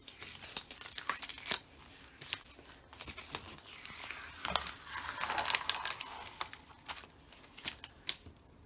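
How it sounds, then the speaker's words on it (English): Cut fabric being slowly peeled off a sticky cutting mat from a Brother ScanNCut CM350, a soft crackling, tearing rustle with small crinkles and ticks, close and fairly quiet, without talk. "let's gently peel off this fabric"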